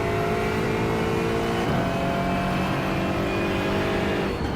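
A racing car engine in the iRacing video game, at Watkins Glen, drones and climbs in pitch, shifts once with a brief dip, then keeps revving hard and steady.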